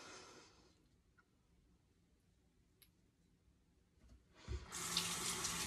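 A bathroom tap opens and water runs steadily into a sink for rinsing the face, starting after a long quiet stretch with faint small clicks, then a close, full rushing flow.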